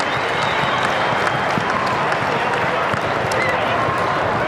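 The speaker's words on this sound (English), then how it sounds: "Could you please applaud the efforts of both the Geelong Cats and the Port Melbourne Football Club" A stadium crowd applauds after the 2012 VFL grand final between the Geelong Cats and Port Melbourne, with steady dense clapping and a dull roar of cheering kept up from start to finish.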